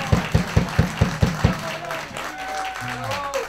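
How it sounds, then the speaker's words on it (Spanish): Several strong, evenly spaced claps ring out near the microphone, then fade into lighter applause as a voice begins talking over it. "Pero necesita un aplauso"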